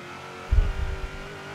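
A tuned Ford De Luxe engine drones steadily in a Forza Horizon 3 race from the interior view, with a brief low thump and rumble over bumpy ground.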